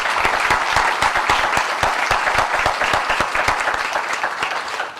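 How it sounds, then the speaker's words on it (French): An annual general meeting audience claps steadily for Jean-Louis Tanguay, a loud, dense run of many hands close by that eases slightly toward the end, with no talking over it. "je pense que tu mérites un applaudissement spécial"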